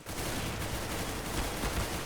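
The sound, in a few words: gunfire in the video game CS GO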